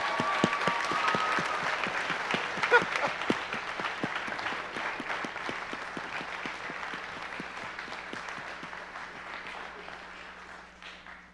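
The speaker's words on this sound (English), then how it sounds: "You can all clap now." An audience at a school band concert applauds steadily, dense clapping from a large crowd filling the hall and slowly fading toward the end.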